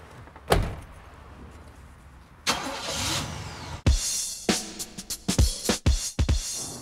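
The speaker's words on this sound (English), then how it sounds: "Starter up, let's go for a spin." A Chevy pickup truck is started after a door clunk, with loud bursts and clacks, then the engine catches and runs at a mid pitch amid further door thuds and knocks.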